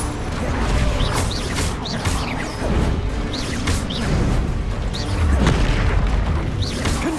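Repeated spell explosions crack and rumble through a dense, busy battle in the Hogwarts Legacy video game, several sharp bursts and crashes landing over about seven seconds amid constant clattering game noise.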